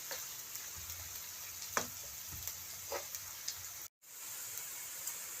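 Chopped onions fry in a pan with a steady soft sizzle, broken by a few faint clicks and stirring taps.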